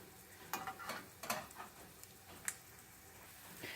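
Frozen veggie patties frying in a pan, a quiet sizzle broken by irregular sharp pops and crackles, some clustered together and others isolated, fairly faint overall.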